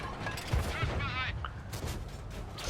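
A tank cannon shell ricochets off armour in World of Tanks during a Tiger I battle, heard as muffled gunfire bursts and a brief warbling metallic whine over a constant engine rumble, fairly faint overall.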